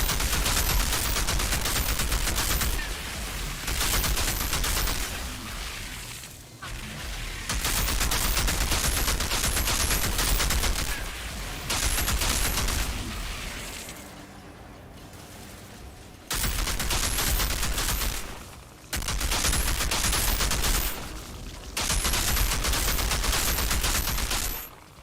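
Long bursts of light machine gun fire rattle out in Outriders, dense and loud, stopping and restarting every few seconds with short gaps of quieter ambience between the volleys.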